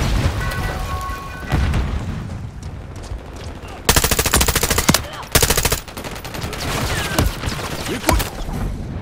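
Rapid bursts of automatic gunfire crackle through a busy Call of Duty: Modern Warfare 3 team deathmatch soundscape, with dense rattling volleys in the middle and scattered shots around them.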